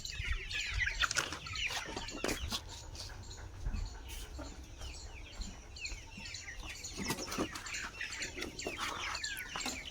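Chickens clucking and murmuring as they peck at grain, with soft overlapping calls, scattered pecks and a few wing flaps close by, with no talking.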